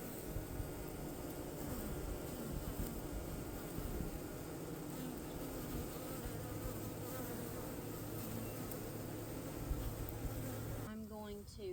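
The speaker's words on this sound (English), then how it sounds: "You will see some of the bees bringing in pollen on their back legs" Honey bees buzz at a hive entrance, some carrying pollen on their back legs, in a dense continuous drone of many wings close by that holds steady throughout and stops abruptly near the end.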